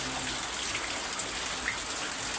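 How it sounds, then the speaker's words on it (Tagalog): Steady rain falling on a rainy Wednesday in Pampanga during typhoon weather, a constant close hiss of drops and water with no voices. "Maulan na Miyerkules."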